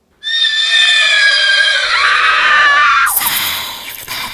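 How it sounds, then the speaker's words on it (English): A horse whinnies loudly for several seconds, a long shrill neigh close by, then a sharp cracking burst cuts in near the end. "I hear another sound, the approaching of a horse and cart"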